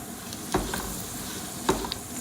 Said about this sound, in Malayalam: അതേ എണ്ണയിലേക്ക് തന്നെ നമുക്ക് ആവശ്യമായ കാഷ്നട്ടും റൈസിൻസും ചേർത്ത് നന്നായിട്ട് വറുത്തെടുക്കണം